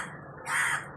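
A crow caws loudly and close in a single harsh call that swells in the second half, heard alone in an outdoor spot where someone is calling birds over to feed.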